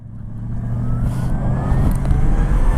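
A Zero FX 5.7 electric motorcycle pulls away with a rising electric whine over a loud, steady rumble of wind and tyre noise, close and with no voices.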